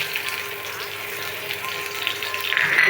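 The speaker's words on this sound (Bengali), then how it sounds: "আমি এখন ডাইলে বাগার দেওয়ার জন্য এই যে রসুন দিয়ে জিরা দিয়েছি" Garlic and cumin seeds sizzle in hot oil for a tempering for dal, a close, steady, crackling fry that continues without pause.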